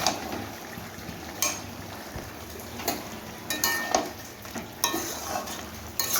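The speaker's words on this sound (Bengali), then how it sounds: "আর দু তিন মিনিটের মতো একটুখানি নাড়াচাড়া করে তারপর নামিয়ে নেব" Bottle gourd curry (lau ghonto) stirred in a pan, with a spoon scraping and knocking against the metal at irregular intervals over a soft, steady sizzle, close and moderately loud.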